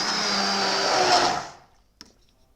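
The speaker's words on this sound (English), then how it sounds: "now I'm going to blend it, and then I'm going to add the coconut cream" A blender purees cooled vegetable soup with a loud, steady whirring roar for about a second and a half, then cuts off abruptly, leaving a small clunk in the quiet.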